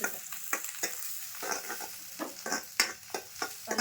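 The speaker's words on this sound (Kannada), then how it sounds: "ಉಳ್ಳಾಗಡ್ಡಿ ಹಾಕೊಂಡ್ರಿ ಉಳ್ಳಾಗಡ್ಡಿ ಫ್ರೈ ರೀ" Onions frying in a pan give a close, continuous sizzle, with rhythmic, repeated spatula strokes scraping and tapping every fraction of a second, and no voices.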